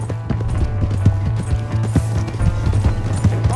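Galloping hooves pound rhythmically as a horse runs off in Red Dead Redemption 2, loud and near over a steady low hum of game sound.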